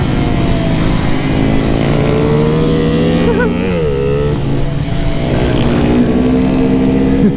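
Honda Grom mini motorcycles racing at Bushnell, their small engines buzzing loud and close with steady harmonic drone and pitch rising and dipping through shifts and a tight turn, several bikes layered together throughout.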